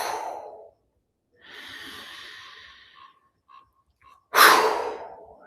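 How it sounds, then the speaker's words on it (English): A person breathes in deeply, then blows out hard in a forceful rush of air, close and unaccompanied, after an earlier quieter exhale. "we're going to breathe in and blow out hard."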